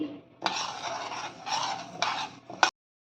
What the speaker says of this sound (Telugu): పెసరపప్పు దోరగా వేయించాలండి.